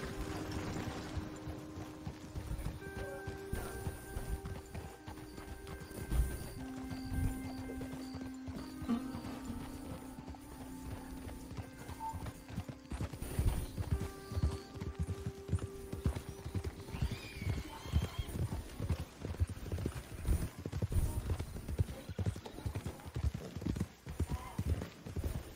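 Clydesdale horses' hooves clip-clop steadily and close in Red Dead Redemption 2, with occasional whinnies over a busy game soundscape and low rumbling ambience.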